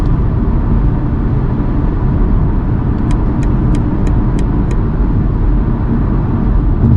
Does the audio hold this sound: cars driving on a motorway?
yes